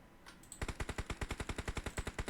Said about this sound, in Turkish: Oğlum direkt karşıdan sıkıyor.